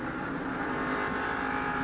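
NASCAR stock cars race the newly paved Bristol short track in the 1989 Valleydale 500, a steady, loud, blended roar of engines with no break over the short stretch.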